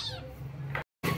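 A small rescued kitten gives a loud, close, high-pitched meow, then a short second cry after a brief gap.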